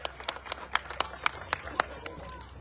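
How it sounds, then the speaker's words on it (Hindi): An audience claps at a political rally in Sirsa. The claps are spaced and fairly faint, with some crowd noise behind them. "जोरदार ताली लगा दीजिए अपने पास।"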